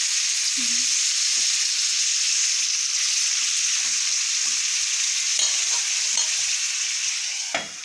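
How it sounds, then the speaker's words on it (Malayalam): Steady, loud sizzling of meat and liver frying in a pan, continuous throughout, with a few faint clinks and stirring scrapes. "ഇറച്ചി വറുക്കാനായിട്ട് വറുത്തിറച്ചി ലിവറും പിന്നെ കുറച്ച് ഇറച്ചിയും കൂടി ഇട്ടാ"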